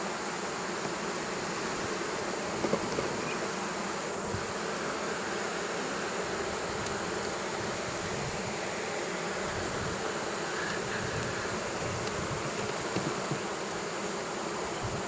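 Dense, steady buzzing of many bees around an opened beehive during a hive inspection, continuous and close throughout with no talking.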